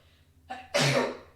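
One short, sharp sneeze bursts out after a brief intake of breath, close and fairly loud, with nothing else around it.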